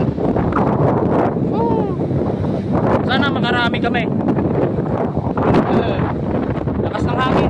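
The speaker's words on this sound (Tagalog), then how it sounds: "Lakas ng hangin." Strong wind sweeps across the open sea where the water is rough, a loud, unbroken roar battering the microphone throughout while people talk over it.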